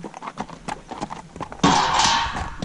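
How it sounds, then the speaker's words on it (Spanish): Hooves of a horse clop at a slow walk through a gate in the Picos de Europa mountains, several close, distinct knocks, followed by a louder burst of broadband noise near the end. "Pasamos el caballo."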